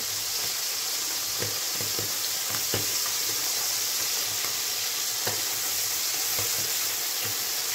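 Village cheese frying in oil in a pan, a steady close sizzle and hiss throughout with scattered small pops and clicks of stirring.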